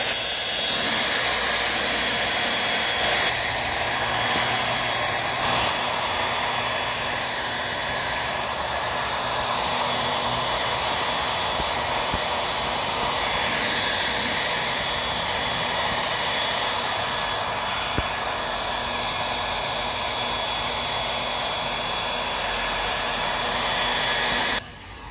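Conair 1000 hair dryer blowing on a fender badge of a 2015 Subaru WRX, a loud continuous whooshing roar held steady and close for the whole stretch, cutting off at the very end.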